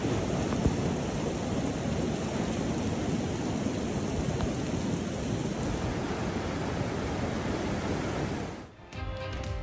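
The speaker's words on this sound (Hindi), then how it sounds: "अमरीकी रियासत कैलिफोर्निया में बारिशों से निज़ामे ज़िंदगी दरहम बरहम। शदीद बरसात के बाद नदी नाले उबल पड़े" Heavy rain in a California thunderstorm roars as a dense, unbroken wash of loud downpour for nearly ten seconds, then cuts off abruptly at the end.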